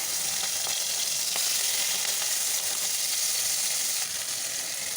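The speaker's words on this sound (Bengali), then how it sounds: "আমি এতে আবার তেল দিয়ে দিলাম এবার চিংড়ি মাছগুলো ভেজে তুলে নেবো" Prawns frying in hot oil in a pan, a steady dense sizzle and crackle throughout, close and fairly loud with no voices.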